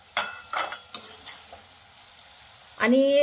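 Potato pieces frying in oil in a pan for aloo palak masala, giving a few short sizzling bursts that fade out, followed by a brief louder scrape or clatter at the end, with a single spoken word.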